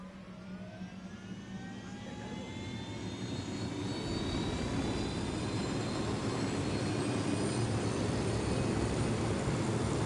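Aircraft engine in the Ghost Recon video game, spooling up from a whine into a loud, steady roar that grows louder over the first few seconds and then holds.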